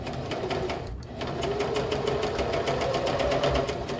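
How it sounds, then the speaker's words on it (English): A sewing machine stitches down the middle of a piece of fabric with a fast, even mechanical clatter. It pauses briefly once, then resumes its steady rhythmic run at close range. "So then I'm going to sew down the middle of this particular one."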